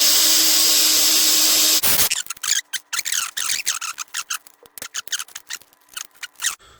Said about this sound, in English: Drill it out, maybe?